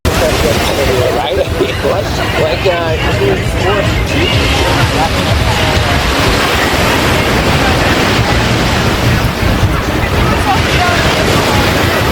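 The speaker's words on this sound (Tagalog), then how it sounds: "malakas yung alon" Loud, continuous surf churns around a swimmer in the sea at White Bay, with strong waves sloshing close to the microphone, wind buffeting, and voices talking throughout.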